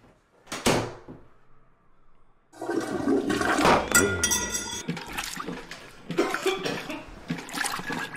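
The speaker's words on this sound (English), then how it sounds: "I think I might use too much tissue because the toilet won't flush" A toilet flushes with a rushing, gurgling swirl of water that fills most of the clip, after a brief knock or clatter near the start; there is no talking.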